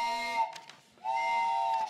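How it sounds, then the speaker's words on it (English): A steam train whistle sound effect from a 1940s radio drama gives two sustained chord-like blasts with a brief break between them, clear and fairly close, with no talk. "Yes, trains whistling their arrivals."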